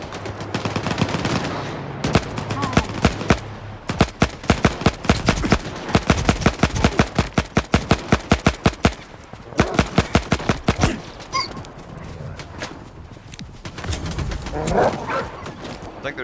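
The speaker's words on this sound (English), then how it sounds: "I think they're shooting the dogs for me." Sustained bursts of automatic gunfire from a battle in Stalker 2, loud and rapid, firing in long volleys with brief pauses, while a voice talks at times.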